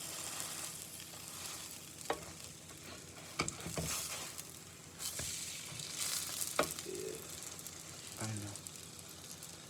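Spicy bacon frying in plenty of grease in a pan on a low burner, a steady crackling sizzle throughout with a few sharp pops and clatters, and someone speaks briefly near the end.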